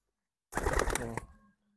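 A racing pigeon gives a single short, close coo lasting about a second, surrounded by silence and with no talk.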